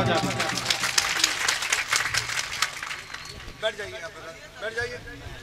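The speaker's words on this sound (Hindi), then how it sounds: "हमारे थाना अध्यक्ष जी के लिए एक बार आप लोग तालियां बजा दीजिए" At a poetry mushaira gathering in Chatapur, Bihar, an audience claps for the local police station chief, a brisk burst of many hands that fades after a few seconds as a voice takes over.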